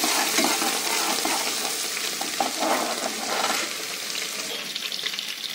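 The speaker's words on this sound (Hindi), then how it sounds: "यहाँ मैंने अपना अदरक लहसुन कूट कर रखा हुआ था इमाम दस्ते में वो डाल दूँगी इसको अच्छे से फ्राई करना है अच्छे से भून लेंगे" Crushed ginger-garlic paste fries in hot oil in a pan, giving a steady close sizzle with light stirring scrapes throughout, no voices.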